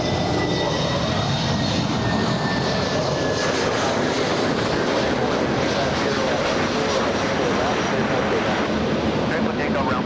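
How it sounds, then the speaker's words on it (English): An EVA Air Boeing 777 jet at LAX on runway 24, cleared for takeoff, gives a steady broad roar that holds for the whole stretch, with a voice talking over it. "In the meantime, big 777 Eva."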